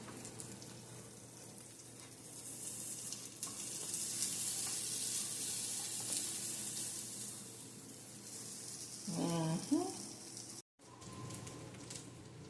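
A buttered bagel sizzles in a pan with a soft steady hiss, then a brief clatter and scrape near the end as it is flipped.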